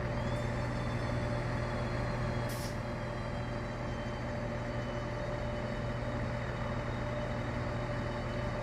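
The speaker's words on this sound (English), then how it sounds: "So I'll start braking here, so we can stop." Class 800 train in Train Sim 2020 braking to a stop, a steady loud rumble with low hum and faint high whine, a brief hiss of air near the start, with no talking.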